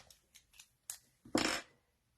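Scissors cut paper for a rubber-stamping card craft: a few quick snips, then a longer louder cut, close and crisp, with no talking.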